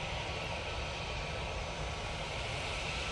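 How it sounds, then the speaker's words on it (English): A Lufthansa City Airbus A320neo's jet engines spool up in fog at Manchester Airport, a steady broad roaring hiss heard from a distance, faint and unbroken throughout, no talk. "Lufthansa City A320 Neo about to spool up"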